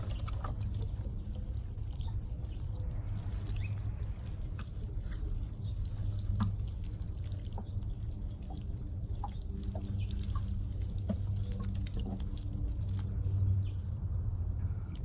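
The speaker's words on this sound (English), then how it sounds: "My last step will be to water in these plants very well into their new home" Water pours and trickles steadily over freshly planted flowers in a vintage farmhouse chair planter, splashing and dripping into soil close by, continuous and gentle throughout.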